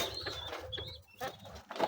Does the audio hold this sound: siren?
no